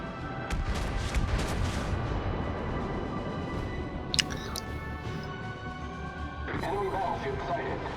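Naval guns boom in World of Warships amid a busy game mix, with a few deep blasts and a sharp crack midway and rumbling effects throughout, while a player talks.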